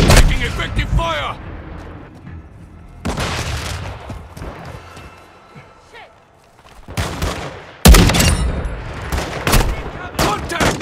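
Bursts of automatic and single gunfire in a Call of Duty: Modern Warfare II team deathmatch, loud and close, separated by quieter gaps with distant shots and game voice callouts.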